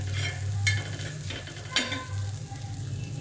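Egg bhurji sizzles on an iron tawa while a spatula scrapes and stirs it in two quick strokes over a steady frying hiss.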